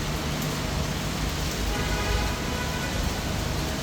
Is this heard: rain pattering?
yes